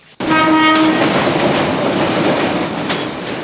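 A train rumbles past up close, with a brief horn blast at the start and a continuous loud clatter of rolling wheels.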